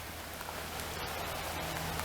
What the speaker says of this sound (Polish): Schowałem się, bo już trochę za bardzo pada.